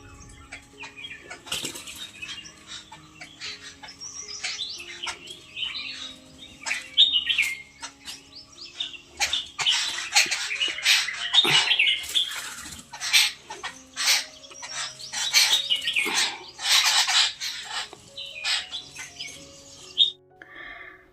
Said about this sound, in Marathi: पक्षी बघा कशा आंघोळ करत होते